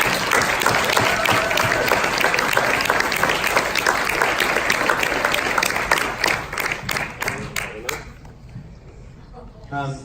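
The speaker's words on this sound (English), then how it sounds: "Can we get one more huge round of applause for this" Loud, dense audience applause for a speaker after a talk on the Smith Manoeuvre, sustained for about eight seconds, then thinning into a few scattered claps before falling quiet.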